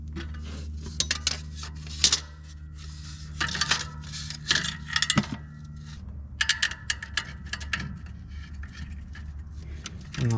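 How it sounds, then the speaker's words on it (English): Metal bolts clink and rattle as they are picked through and handled during a clutch repair on an Oliver 660 tractor, with scattered bright chinks and jangles at close range and no speech. "Get some bolts here."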